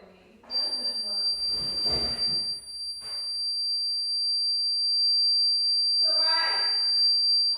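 A household alarm sounds a continuous high-pitched electronic tone that runs steadily through most of the clip, with people talking over it indoors.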